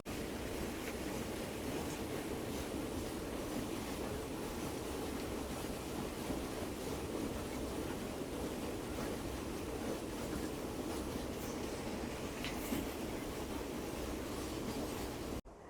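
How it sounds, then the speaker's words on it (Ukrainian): Water pours steadily over the Bukhtivets waterfall on a shallow river in the Carpathians, a dense, continuous rushing roar that stays loud and unbroken throughout, with no voices over it. "незважаючи на те, що вона досить мілководна зараз, потік води гарний такий, красиво"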